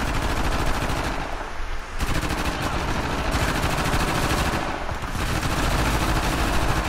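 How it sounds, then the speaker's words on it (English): Gunfire in the video game Uncharted: The Lost Legacy, loud, dense bursts of automatic fire that rattle almost without pause, broken by two brief lulls. "Dear lord, they're shooting all over the place."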